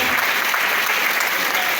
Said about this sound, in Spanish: Voy a pedirles el aplauso más fuerte y más cálido para la doctora Díaz